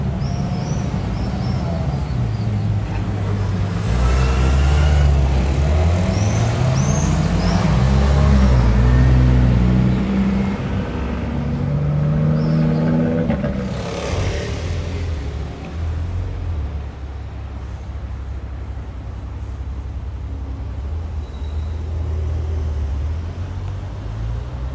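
A Ferrari LaFerrari Aperta at a hotel forecourt idles and revs, rising and falling in surges for several seconds, then settles into a steady rumble, close and loud outdoors.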